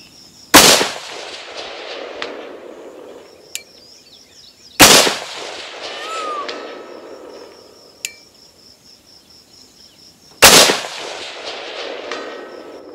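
Close-range rifle gunshots with a Swampfox Blade prism optic, three sharp loud reports spaced several seconds apart, each with a short echoing tail, over quiet outdoor background with faint insect chirps.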